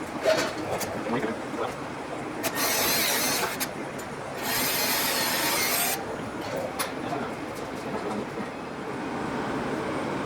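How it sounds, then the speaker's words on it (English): A power drill with a 1/8-inch bit whines in two bursts, the second longer, biting into a metal door latch part amid workshop clatter and someone talking throughout. "we can drill through the other side with a 1/8"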